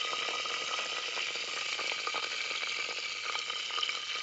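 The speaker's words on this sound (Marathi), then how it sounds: "आता भांड चांगलं गरम झालंय, तेल टाकून घेते त्याच्यात. आता कढीपत्ता टाकून घेते त्यात, आणि खडा मसाला आहे." Curry leaves and whole spices (cinnamon, cloves, star anise, pepper, garlic) frying in hot oil in a heated pan outdoors, a steady close crackling sizzle with fine popping throughout, no voices.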